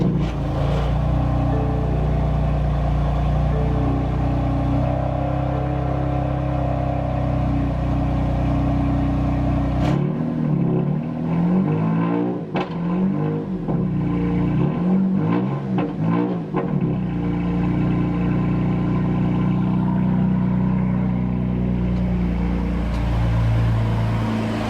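A car engine starts during engine bay detailing and settles into a steady, close idle, with a loud low hum throughout and a burst of rougher mechanical noise partway through.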